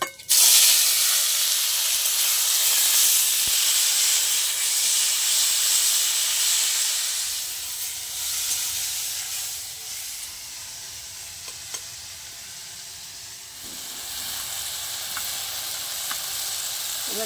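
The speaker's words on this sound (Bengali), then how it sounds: "মশলাটা ভালো তেলে ভেজে গন্ধ বেরিয়ে গেছে" Spices frying in hot oil make a loud, continuous sizzle and hiss that eases slightly midway, then swells again, with faint stirring taps and no talking.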